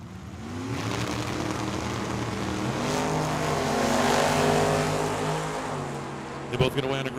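Classic Ford Mustang and Falcon drag cars launch on a drag strip, with loud engines roaring and climbing in pitch as they pull away, then fading, before a brief clatter near the end.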